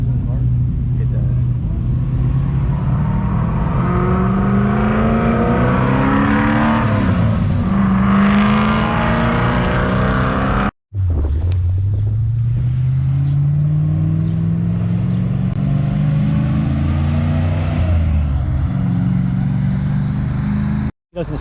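A car engine at a car meet revs hard with a rising whine, holding a loud drone before a brief cut, then climbing again through another long rev as people talk over it.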